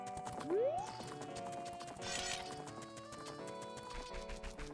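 Horse hooves clip-clop with a whinny in the Zelda game Ocarina of Time, a rapid, steady hoof rhythm that runs under in-game music, with a rising swoop near the start.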